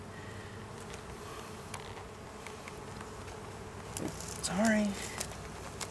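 Honeybees buzz at an open hive during an inspection, a steady drone close by with a brief louder swell as one flies near, while a person speaks a word.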